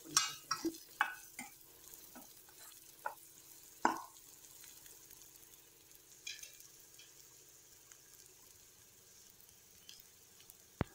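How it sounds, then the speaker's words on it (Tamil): Shredded cabbage with cumin powder sautéed in a pan, with scattered scraping and stirring strokes and a low, faint sizzle underneath, a few sharper clinks near the start. "சேர்த்துட்டு அதோடையே நல்லா வதக்கி விடுங்க."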